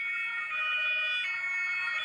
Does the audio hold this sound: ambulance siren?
yes